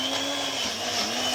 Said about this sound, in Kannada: ಅದನ್ನು ಕೊತ್ತಂಬರಿ, ಪುದೀನ, ಮೆಣಸಿನ್ಕಾಯಿ 3 ಫ್ರೈ ಮಾಡಿ ಇದನ್ನು ಮಿಕ್ಸಿಗೆ ಹಾಕ್ಕೊಳ್ಳೋದಷ್ಟೇ